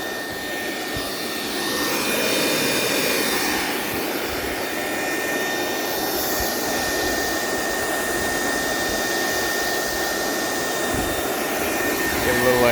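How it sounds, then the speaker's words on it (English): A waste oil fire burns in a burner with a steady, loud roaring rush like a jet, continuous and even throughout with a faint whistling tone on top. "It's a sustainable fire now."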